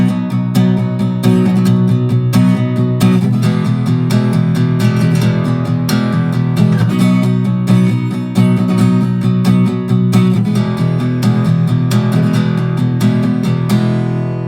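Acoustic guitar strumming the chords of a song, a steady, full-bodied progression played continuously, close and fairly loud with no voice.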